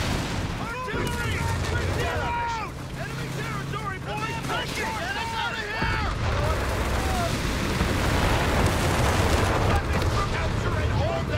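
Artillery fire in a Company of Heroes 3 battle: heavy blasts and a dense, continuous rumble of combat that gets louder after the first few seconds, mixed with shouting soldier voices.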